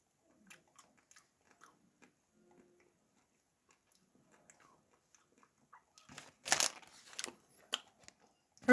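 Someone bites into a chocolate-coated Dilly Bar ice cream treat, with faint small crackles at first and then a loud, close crunch of the shell followed by several chewing bursts.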